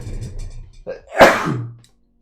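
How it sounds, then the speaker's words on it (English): A single sneeze bursts out sharply in a quiet indoor setting after a brief pause, preceded by a faint breathy intake, with low background hum beforehand. "I have to sneeze"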